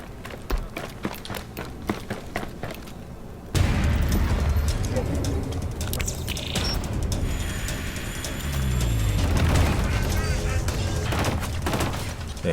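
A shotgun fires in the video game Killzone Shadow Fall, with heavy booming blasts and sharp bursts over dense game action noise, getting louder partway through, with a voice talking underneath.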